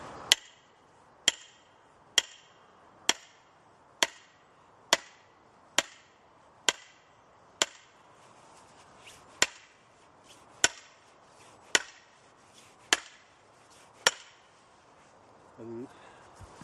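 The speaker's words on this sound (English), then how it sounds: "not using a splitting axe, but instead using a wedge and a sledgehammer" A sledgehammer drives a steel wedge into a log to split wood, landing about fifteen loud, sharp, evenly spaced blows roughly one per second, each ringing briefly before the next.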